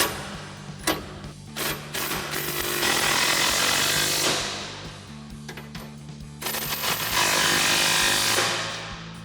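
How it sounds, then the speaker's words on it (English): An impact wrench with a 15 mm socket drives the bumper bracket bolts on a 2010-2018 RAM 2500. It comes as several loud, harsh mechanical bursts that start and stop, with a steady low hum running beneath them. "we'll use our 15 millimeter socket on our impact to tighten these back down"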